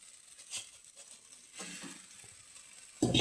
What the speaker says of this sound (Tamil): சப்பாத்தியை போட்டு நல்லா கலக்கிடலாம்